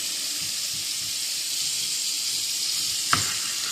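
Thin chicken pieces frying in a pan, a steady close sizzle and hiss with one brief louder crackle near the end.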